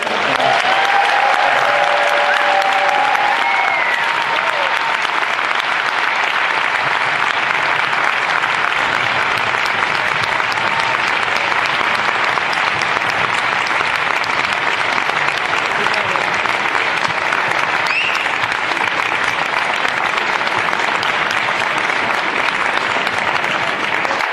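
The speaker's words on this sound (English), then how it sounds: "Can you give a big round of applause?" Sustained audience applause at a film festival panel discussion, steady and dense for over twenty seconds, filling the room evenly with no talk over it.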